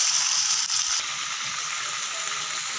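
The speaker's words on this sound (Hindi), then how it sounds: "अब हम करेंगे इसको इसके साथ फ्राई।" Beef pieces frying with green chili paste in a pot for biryani, a steady loud sizzle with crackling throughout, no voices.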